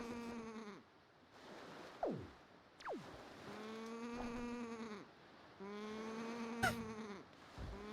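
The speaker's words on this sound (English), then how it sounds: "I think I'm just willing to say it was a sheep sound based on the fact it sounds so much like a sheep." Sheep bleating in the Zelda Wind Waker video game: several loud, wavering bleats in a row with short gaps between them, plus a few brief sliding chirps, heard clearly on their own.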